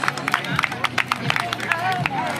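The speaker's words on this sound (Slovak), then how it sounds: "Veľký potlesk." Crowd clapping at a children's micro-category bike race awards ceremony, a scattered burst of hand claps mixed with chatter and voices from an outdoor gathering.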